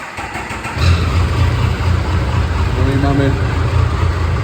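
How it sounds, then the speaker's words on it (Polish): A Triumph Tiger 1050 Sport motorcycle engine turns over and catches, then settles into a steady low idle with a rumbling throb; someone speaks briefly over it. "przekręcam kluczyk, czerwony guzik w dół, klikam sobie pomocą sprzęgiełko"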